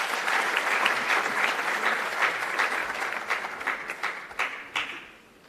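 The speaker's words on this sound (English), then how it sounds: "Let's give a round of applause as she's coming on stage." Audience at a youth trade convention applauding as a speaker walks on stage, a full steady round of clapping that gradually tapers and fades toward the end.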